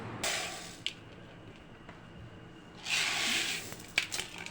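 Water poured over soaking wheat, lentils and chana dal for daleem, two bursts of hissing, splashing flow with soft squishy handling between, close and moderately loud, with no talk.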